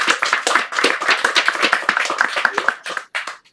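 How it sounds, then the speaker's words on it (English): A small audience at a hybrid poetry reading claps, a sparse, uneven patter of individual hands close by that thins out and tapers off toward the end. "Let's give him a round of applause."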